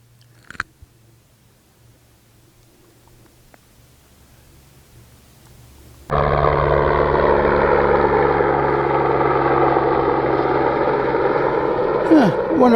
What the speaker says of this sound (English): Wonder what that helicopter is doing here.